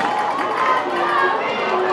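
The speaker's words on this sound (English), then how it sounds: "Oh, what a crowd." Crowd cheering at a Texas UIL 5A state championship high school softball game, a sustained roar of many voices from the stands, steady and fairly loud.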